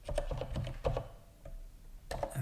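Close, fairly quiet keystrokes on a computer keyboard come in an uneven rhythm: clusters of clicks, a short pause, then a few more taps.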